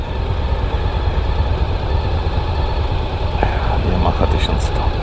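A Yamaha 1100 motorcycle engine idles steadily at close range, a continuous low rumble with a few faint clicks and higher tones near the end.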